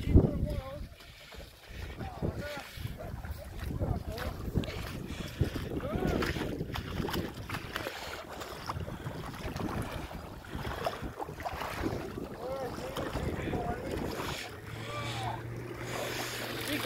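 Traxxas Maxx RC monster truck hydroplaning across water, a continuous whirring motor and spraying water rush at varying distance over about seventeen seconds, with people talking and some wind noise.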